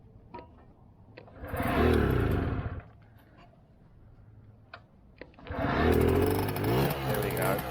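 A 1964 NSU Quickly S23 moped engine sputters briefly after a faint click, dies, then catches and runs with a rising, rattly buzz close by, with a voice speaking over it in between.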